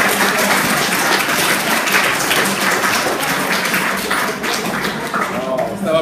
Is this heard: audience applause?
yes